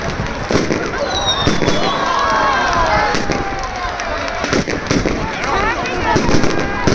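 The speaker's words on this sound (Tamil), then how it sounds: "எல்லாம் வெடி போட ஆரம்பிச்சிட்டாங்க பாருங்க" A dense barrage of fireworks and firecrackers at a New Year celebration in China: continuous loud crackling pops, whistling rockets rising in pitch, and excited voices in the crowd throughout.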